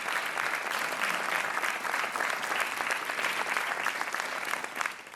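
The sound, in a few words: studio audience applause on a TV quiz show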